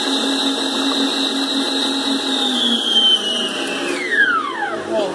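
Electric mixer whirring steadily as it beats cake batter, a constant motor whine that slows and drops in pitch toward the end as the beating stops.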